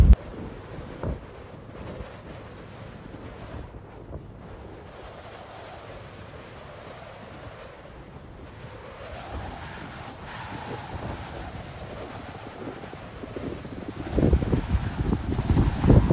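Steady wind rumbles and buffets the microphone outdoors at a Minnesota wetland in January, growing louder and gustier toward the end.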